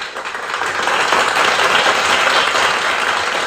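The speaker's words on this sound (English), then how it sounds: "Yeah, let's clap it up." A loud, dense round of applause from a crowd, steady clapping close by that holds at full strength throughout.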